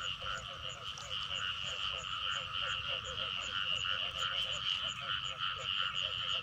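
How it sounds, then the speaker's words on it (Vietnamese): Male frogs croaking in shallow, clear water of a flooded rice field at night, a steady chorus of rapid, pulsing calls at moderate distance with no talk over it. "Con ếch này bong bóng nó bự nè."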